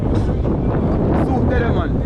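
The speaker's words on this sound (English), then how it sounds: "wind kind of high" Strong wind buffets the microphone on a beach, a loud, steady roar that rumbles and gusts throughout. No one speaks.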